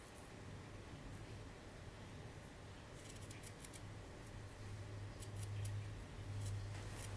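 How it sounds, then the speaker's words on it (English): Scissors snip along the edge of a strip of crochet trim in a quiet craft room, faint close cuts with a few soft crisp clicks under low background hiss. "cut off just the edge of the crochet trim"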